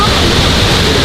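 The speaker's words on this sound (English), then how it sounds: "Got this very, very beautiful waterfall here." Dense continuous rush of falling water from a waterfall at the San Diego Zoo, loud and close, filling the whole moment without pause.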